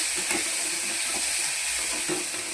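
Wheat noodle ingredients sautéing in a pan give a steady, close sizzle with faint stirring scrapes and a few soft clinks, no voices present.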